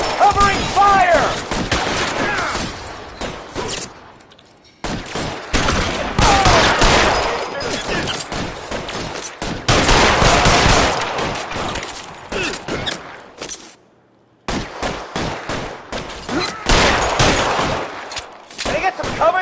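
Heavy covering gunfire in a PS4 shooter, loud rapid automatic bursts in long volleys broken by short pauses, close and dominant throughout.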